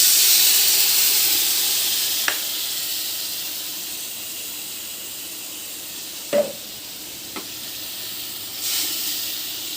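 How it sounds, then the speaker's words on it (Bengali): Spice paste frying in hot oil in a pan while cooking fish with eggplant, a steady hissing sizzle with a few sharp clicks and scrapes from the spoon. "মশলাগুলোকে একটু ভেজে নেব"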